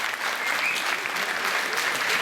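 Crowd applauding at a 2014 amateur singing contest in Bain-de-Bretagne, continuous thick clapping, loud and even from start to finish, with no talk standing out.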